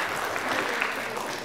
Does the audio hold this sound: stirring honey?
no